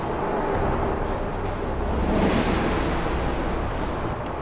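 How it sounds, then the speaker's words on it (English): Traffic crossing a huge suspension bridge over Osaka Bay near Kobe, heard from beneath the deck as a continuous broad rumble and hiss that swells slightly as vehicles pass. "you can actually hear the traffic as it's going by"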